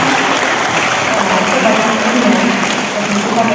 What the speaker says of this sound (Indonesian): kita berikan tepuk tangan untuk Romo Panto.